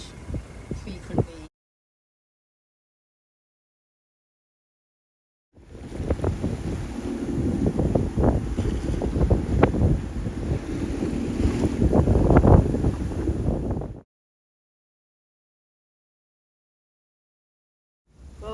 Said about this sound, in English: With the wind being so strong, we've got quite a bit of wave chop.